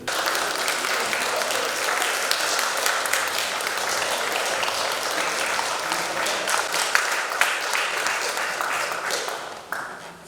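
Deputies in a session hall give a standing ovation lasting minutes: dense, continuous applause from many hands, loud and steady throughout, with a few sharper claps standing out and a slight fade at the very end.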